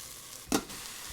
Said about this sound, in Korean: 바닥에서 짜작짜작 소리가 나면 이때 옆에 감자를 넣어주세요